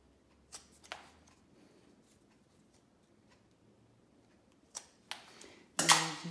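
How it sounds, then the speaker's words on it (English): Scissors cutting excess rush cane on a chair seat being woven, a few sharp isolated snips spread across quiet moments, ending in a louder rustling handling noise. "And we'll take our scissors, cut off the excess."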